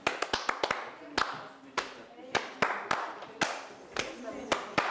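Rhythmic hand clapping from a Belarusian folk dance move, a run of about a dozen sharp, close claps with uneven spacing, quick bursts early then steadier beats, against a quiet room.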